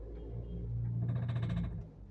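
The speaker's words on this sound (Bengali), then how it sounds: "ফেরার সময় গাড়িটার মধ্যে ইঞ্জিনে একটা সাউন্ড ফিল করছি।" A low engine rumble comes from a 2018 non-hybrid Toyota Axio with an abnormal noise suspected in its gearbox. The brief, fairly faint drone swells midway, then drops off near the end.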